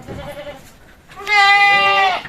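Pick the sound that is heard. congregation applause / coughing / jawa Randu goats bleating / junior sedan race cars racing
jawa Randu goats bleating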